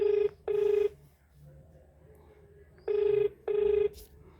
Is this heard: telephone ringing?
yes